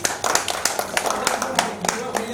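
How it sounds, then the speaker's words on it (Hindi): Audience claps in a burst of hand taps for Dinesh Maharaj ji at a gathering during the Braj Chaurasi Kos yatra, close and lively, with voices mixed in. "एक बार ताली है महाराज जी के लिए एक बार।"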